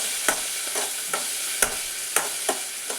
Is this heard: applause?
no